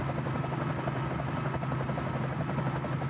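A Bell 47J Ranger helicopter landing in Microsoft Flight Simulator, giving a steady, close rotor thump and engine drone that holds evenly throughout.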